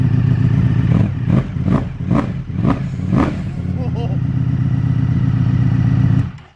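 A Kawasaki ZX-10 sportbike engine revs hard in five quick sharp blips over a deep, loud idle, then settles into a steady rumble before cutting off.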